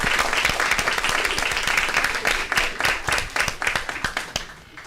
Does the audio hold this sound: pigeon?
no